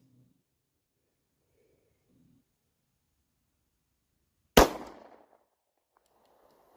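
A single sharp shot from a Beretta 92FS 9mm pistol, loud and close, with a short decaying tail in an otherwise quiet stretch, a few faint murmurs before it.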